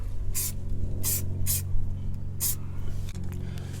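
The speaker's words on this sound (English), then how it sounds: "Just spray this bracket." Short hissing bursts of an aerosol spray onto a metal suspension drop bracket, four quick sprays over a steady low mechanical hum.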